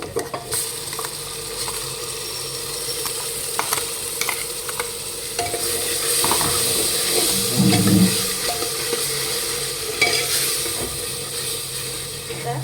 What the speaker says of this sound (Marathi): कांदा आपला आता छान फ्राय झालेला आहे त्याच्यात आपण हे कांदा टोमॅटो जे वाटण करून घेतले होते ना ते टाकून घ्यायचे